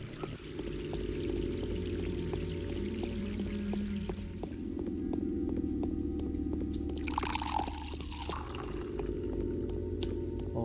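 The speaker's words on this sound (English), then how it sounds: "Always handy to fill up an extra little bit of water bottle every now and" Water bottle being filled at a source in the video game Pathologic, a steady pouring and trickling stream of liquid running for several seconds over a low game ambience, with a brighter splashy burst near the end.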